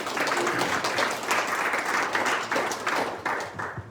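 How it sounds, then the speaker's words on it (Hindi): Steady, dense applause from a gathering of devotees at a religious talk, filling the room for several seconds with no talk over it. "तालियों के साथ धन्यवाद दीजिए।"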